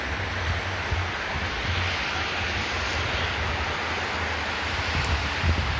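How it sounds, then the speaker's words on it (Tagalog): Rain falling steadily outdoors in Saudi Arabia, a dense unbroken wash of noise with a low rumble and wind-like roar, fairly loud throughout and with no talking. "Naulan ngayon, Kagudgud, sa aming lugar."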